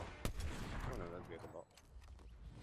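Gunshots in the video game Fortnite: one sharp, close crack opens the moment, then quieter follow-up shots and game noise, with a voice briefly audible underneath.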